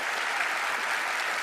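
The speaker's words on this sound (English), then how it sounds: "we don't give Alyson a big round of applause" A theater audience applauds steadily as a volunteer joins a magician on stage, a dense, even wash of clapping for the whole moment.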